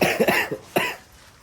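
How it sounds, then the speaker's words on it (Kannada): Two rough, heavy coughs close to the microphone, a short cluster followed by a single harsh bark after a brief pause. "ಹೆವಿ ಕೆಮ್ಮು"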